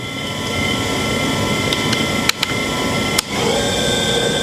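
A Tormach 1100 MX CNC vertical machining centre's BT30 spindle whirs steadily with a bright, even tone, a few brief clicks and a short dip partway through, loud and close with no one talking.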